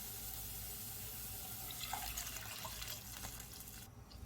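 A cup of water poured into a pot of ginger garlic soup with softened cabbage and carrots, a quiet steady splashing pour lasting a few seconds and then stopping.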